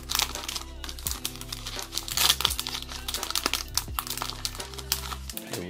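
A Rookies & Stars 2020 trading card pack wrapper crinkles and crackles close up as it is torn open, with repeated sharp crunches over a steady background tune.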